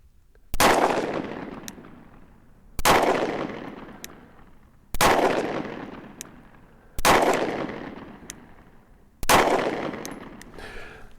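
Five sharp, crisp trigger breaks from a Tyrant CNC flat-faced trigger in a Sig P365 pistol being dry-fired, each snapping loudly with a brief ringing tail, spaced about two seconds apart with quiet pauses between.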